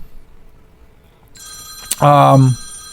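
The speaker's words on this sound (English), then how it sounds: "And there's the phone." A telephone rings indoors, a brief electronic trill that turns into one loud ringing burst near the end, heard clearly on its own.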